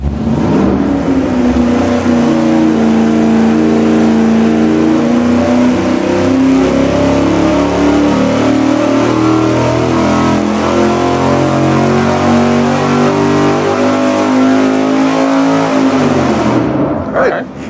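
A race engine on a dyno runs a baseline pull without a carburetor spacer, a loud, sustained roar that climbs steadily in pitch for many seconds before cutting off abruptly.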